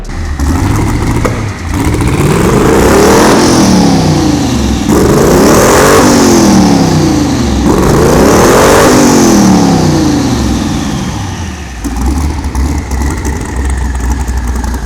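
A quad turbo car engine with a large Garrett G35 turbo and anti-surge rings, loud and close, revving in three long sweeping pulls that rise and fall between idle, with airy turbo whoosh and flutter over the engine roar.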